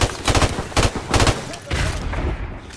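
Bursts of automatic gunfire from Call of Duty: Modern Warfare Remastered multiplayer, several loud rapid volleys in quick succession, then a lower rumble as the shooting stops.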